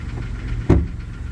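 A car engine, recently rebuilt, rumbles steadily at low pitch, with a single brief thump partway through.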